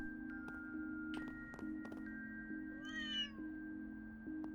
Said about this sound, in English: I guess the cats are feeling a little bold today.